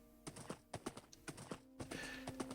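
Horse hooves clip-clop in Minecraft, the video game, in a quick, even rhythm of close, clear steps, with a steady tonal game hum beneath and no talk.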